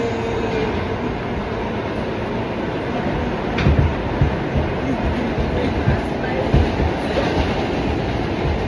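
Steady rumbling New York subway train ride with rattling wheels and occasional clanks, loud and continuous, with faint voices in the background.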